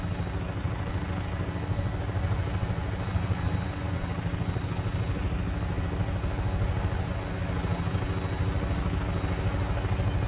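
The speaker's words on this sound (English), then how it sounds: "I'm impressed with the fact that Dogmeat has not leapt from the helicopter yet" Steady, dense whir and rotor drone of a helicopter in flight in the game Fallout 4, continuous and fairly loud throughout with no talking.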